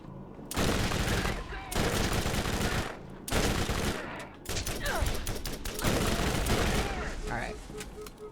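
Gunfire and explosions in the video game Borderlands, loud rapid bursts that cut in and out in several long volleys with brief gaps, with a voice talking over part of it.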